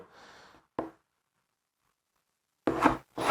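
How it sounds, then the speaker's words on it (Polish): A knife chopping vegetables into small cubes on a board for a fava bean salad, with a brief muffled knock, then after a pause two quick, close, sharp cuts. "I kroimy po prostu w kosteczkę."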